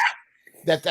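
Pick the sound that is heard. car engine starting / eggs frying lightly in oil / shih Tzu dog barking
shih Tzu dog barking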